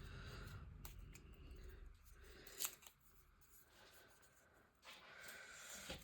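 Scissors snip through a sheet of paper during a craft session. Faint, close cutting strokes come through a few at a time over a soft, steady background.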